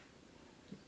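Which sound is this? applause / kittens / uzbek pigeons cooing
kittens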